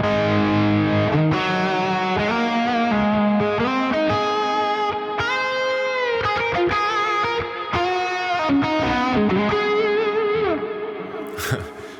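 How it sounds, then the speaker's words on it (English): Electric guitar driven through a Tube Screamer overdrive pedal into an amp sim, with heavy reverb, playing distorted sustained chords and single-note lines, loud and continuous. "You can throw on the tube screamer as well."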